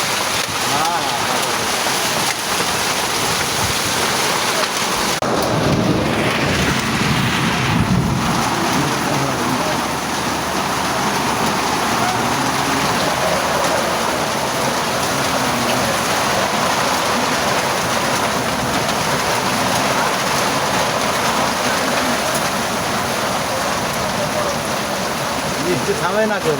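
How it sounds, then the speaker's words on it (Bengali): Heavy rain pours steadily in Dhaka, a dense, loud, unbroken hiss of drops on surfaces that stays constant throughout, with no talking. "বৃষ্টি থামে না কেউ, বৃষ্টি থামে না।"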